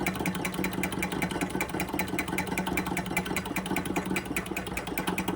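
A repaired George Carette Stirling engine runs with a steady, fast, mechanical clatter and chuff. The rhythm stays even and close throughout, with a faint hum underneath.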